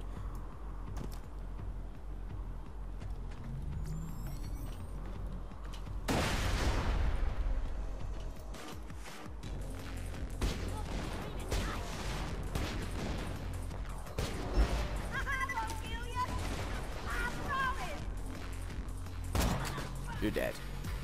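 Enemy gunfire crackles in Borderlands 2, with bursts of shots and heavy blasts going off in quick, uneven clusters beneath excited talk from a player.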